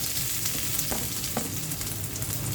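Ginger pieces frying in hot oil, a steady close sizzle with a couple of brief stirring scrapes, no voices.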